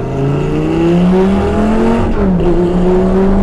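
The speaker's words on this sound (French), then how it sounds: "Là, je peux accélérer. Alors, accélérez maintenant." A Lamborghini Superleggera accelerates hard on a race track, its engine climbing in pitch through a gear change with a brief dip before it rises again, loud and close throughout.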